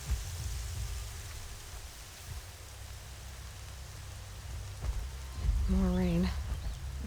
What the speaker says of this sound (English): More rain. My boots will get damp.